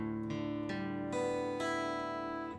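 An acoustic guitar tuned to drop D, its strings struck one after another from the low D upward, each new note ringing over the others into a sustained open chord, close and clear.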